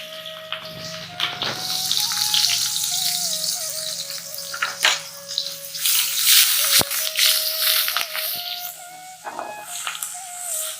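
Onions hitting hot oil for pabda fish curry, a bright loud hiss and crackle that stays strong throughout, with a faint tonal whine underneath.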